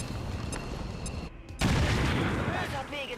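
Gunfire rings out in the turn-based video game XCOM 2, with a dense crackle of shots and then a heavy booming burst over game background noise.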